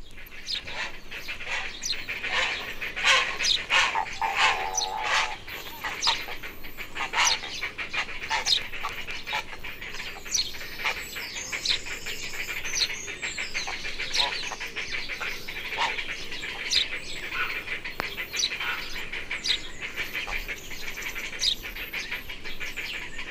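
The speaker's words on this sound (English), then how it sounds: "In the heronry, young birds are now being fed in the high nests, and the wood is full of raucous noise." Young herons beg and squawk raucously from high nests in a heronry in British woodland, a dense, continuous chorus of harsh calls with overlapping bird voices throughout.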